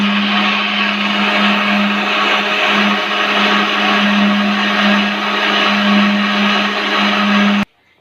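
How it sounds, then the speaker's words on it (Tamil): A mixer grinder whirs loudly and steadily while blending mango with cream for homemade ice cream, a constant close motor drone that cuts off abruptly near the end. "இப்போ நம்ம மேங்கோ சேர்த்து அரைச்சிக்கிற போகிறோம்."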